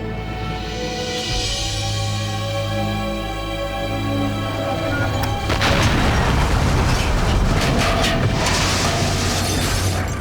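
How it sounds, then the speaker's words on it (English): A train explosion in The Last Express PC game: after a sustained tonal, musical stretch, a loud dense burst of boom and crackling debris erupts midway and roars on steadily to the end. "We then see how the train explodes."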